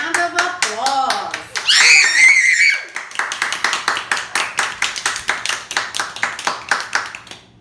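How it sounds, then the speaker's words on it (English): Children applauding themselves at the close of a junior cooking competition, first with excited young voices and squeals, then a burst of rhythmic hand clapping that settles into an even, fairly loud beat. "Give yourself a round of applause"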